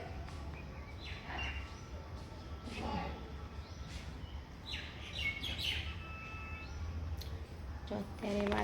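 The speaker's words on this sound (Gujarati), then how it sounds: "અત્યારે છે ને ત્યાં સામે 2 બુલબુલ આવી ગઈ છે." Two bulbuls chirp outdoors near a home, giving short bright calls scattered over steady background noise, faint to moderate, with no talking.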